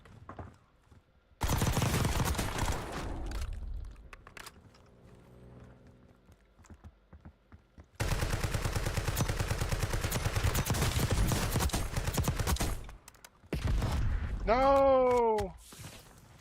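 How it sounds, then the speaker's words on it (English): A SOG submachine gun in Call of Duty Warzone fires in two long, rapid, dense bursts separated by a quieter gap. A voice briefly exclaims near the end. "this little SOG, it's not really good, but puts out a lot of bullets quickly"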